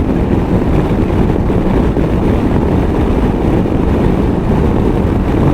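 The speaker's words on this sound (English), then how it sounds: "Strong buffeting." Strong wind buffeting rushes over a rider on a 2019 Honda CB500X motorcycle as a loud, unbroken, deep roaring rumble, steady and close, with no voices.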